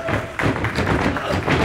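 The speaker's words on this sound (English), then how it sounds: "Big splash on all three." Heavy thuds of a pro wrestler's splash onto three opponents in the ring at an indoor wrestling show, a sharp impact early followed by rumbling crowd noise and further knocks.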